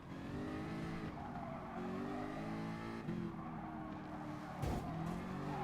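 A Group 3 race car in Gran Turismo Sport drones at a steady high engine pitch, shifting and rising, while tires squeal and skid under it; no voices.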